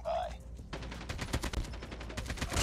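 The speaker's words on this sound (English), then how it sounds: "I'm getting shot on the side?" Gunfire in a Call of Duty Mobile match with an AK47 build: rapid automatic bursts rattle on continuously, close and dense, with an unclear bit of voice at the start.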